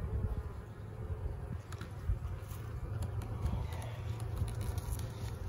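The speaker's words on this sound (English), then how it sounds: "These bees look good, they're healthy." A dense, steady buzz of many honeybees close by at the hive in winter, droning continuously with no voices.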